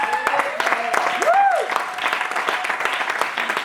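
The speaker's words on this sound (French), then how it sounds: "Est-ce qu'on peut acclamer pour maman?" Church congregation applauding and cheering for a mother during a sermon, a short burst of clapping mixed with voices and a rising musical tone.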